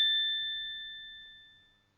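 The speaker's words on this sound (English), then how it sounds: "Don't forget to ring the bell buttons for the next notification." A notification bell sound effect gives one bright, clear ding that rings out alone and fades smoothly over about two seconds.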